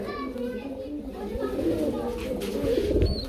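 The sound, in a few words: pigeons cooing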